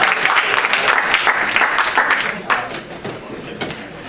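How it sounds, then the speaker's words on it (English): An audience claps at the end of a lecture, a fairly close, uneven patter of hands that thins out over about four seconds, with some individual claps standing out near the end. "feel free to clap"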